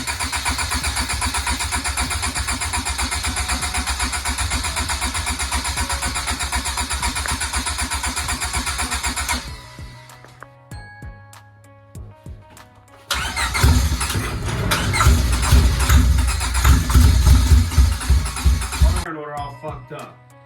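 A Honda Civic four-door sedan with a swapped D16Y8 SOHC VTEC engine cranking and firing for its first startup: a long steady cranking drone, a pause with clicks, then the engine catching and revving roughly up close, with people talking.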